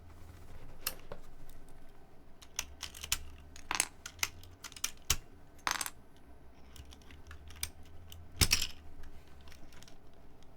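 Keycaps on a Z60 keyboard being rebuilt are pressed to test the stabilizers, giving irregular sharp clacks and rattles, some clustered and some isolated, close and fairly crisp over a quiet low hum.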